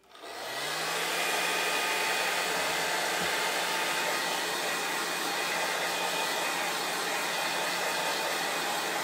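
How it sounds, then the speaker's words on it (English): A handheld blow dryer runs steadily, drying chalk paste on a stencil; a loud, continuous whooshing airflow with a low motor hum sets in within the first second and holds unchanged for about nine seconds. "Grab my blow dryer."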